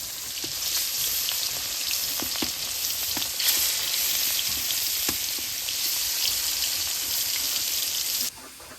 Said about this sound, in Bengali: কড়াই গরম হয়ে গেছে সরষের তেল দিয়ে দিবি